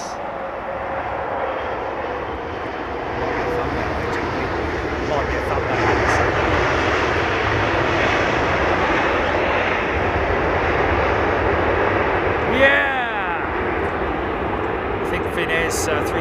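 A Cathay Pacific jet airliner comes in to land on runway 27R, a loud, steady engine roar that swells and holds throughout, with voices talking over it.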